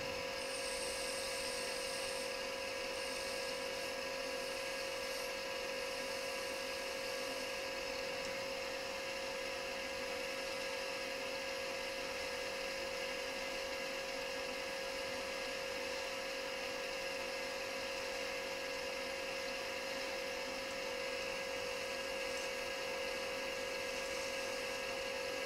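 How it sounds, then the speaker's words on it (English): A wood lathe spins a small birdhouse ornament while a detail skew chisel cuts, producing a constant high-pitched whine with a steady tone and faint scraping, close and unbroken for the whole stretch, with no talking. "I can't get in there with that skew, so I'm using my little detail skew here"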